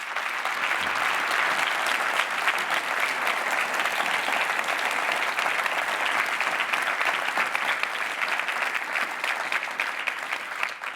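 A conference audience at a pediatric surgery meeting gives sustained, dense applause, many hands clapping evenly for about eleven seconds without a break.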